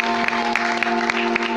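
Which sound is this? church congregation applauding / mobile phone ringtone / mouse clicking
church congregation applauding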